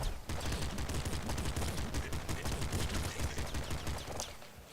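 Steady rapid machine gun fire in the pixel-art shooter Nuclear Throne, a continuous rattling stream of shots at moderate loudness that thins out near the end.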